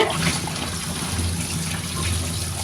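Tap water runs steadily as bitter gourd is rinsed in a home kitchen, a continuous close splashing hiss without talk.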